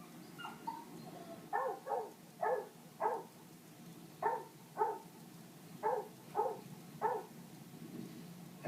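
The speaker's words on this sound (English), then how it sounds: "It sounds quite a happy bark." A dog barking in a happy, playful way, around a dozen short bright barks in uneven pairs and clusters, close and clear against a quiet background.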